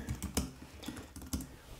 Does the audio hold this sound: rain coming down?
no